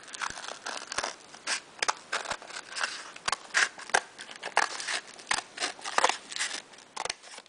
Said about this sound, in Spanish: Podéis hacerlo con las tijeras o con un cúter.